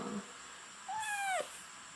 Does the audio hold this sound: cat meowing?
yes